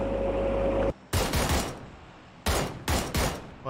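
Bursts of in-game gunfire from PUBG on Xbox One X: a sustained loud volley cut off sharply, then after a gap three more short, loud broadband bursts in quick succession.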